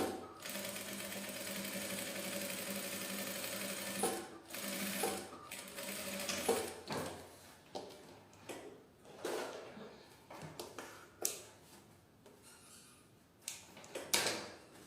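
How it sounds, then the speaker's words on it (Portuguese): Sewing machine stitching close along the edge of a large tote bag in beige thread, a steady whirring run that stops, followed by intermittent shorter bursts and handling clicks. "Vou costurar bem na beiradinha, arremata no início e no fim."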